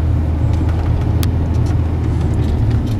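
A car drives along Jamaican roads, a steady loud engine and road rumble close by, with continuous tyre noise and no talk.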